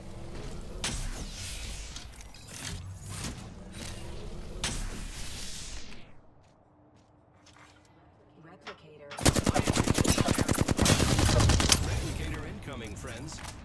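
Rapid bursts of automatic gunfire aimed at the player in Apex Legends crackle in short volleys, drop to a brief quiet lull, then return as a louder, sustained barrage of fast shots.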